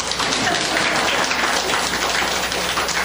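A church congregation breaks into dense, steady applause that fills the room at an even level throughout, with no voices rising above the clapping.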